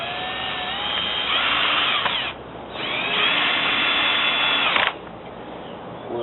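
Power drill drives extra screws into a wooden stockade fence gate, two long loud whirring runs with a brief pause between, close and without talk.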